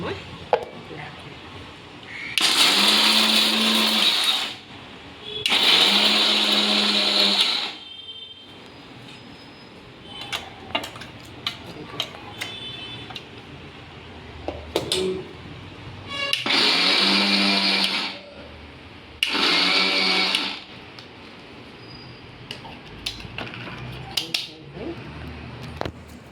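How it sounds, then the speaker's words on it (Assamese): A blender grinding raw almonds into powder, running in four loud bursts of a few seconds each, whirring and rattling, with quiet pauses filled by small clicks and handling noises between pulses. "আৰু আমাৰ নৰ্মেল যিটো কেঁচা বাদামখিনি এতিয়া মই গুড়া কৰিম"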